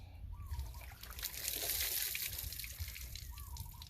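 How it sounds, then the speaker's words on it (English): Cold water from a deep well trickles and splashes steadily as someone rinses off outdoors during a bath, a continuous close wet patter with no talking. "I'm just rinsing off real good and enjoying this cold water."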